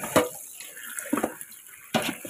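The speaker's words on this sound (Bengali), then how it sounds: "তো ভালো করে এপিট ওপিট করে ধুয়ে নিলাম" Taro is rinsed under a running tap, with brief splashes of water in short bursts separated by quieter handling.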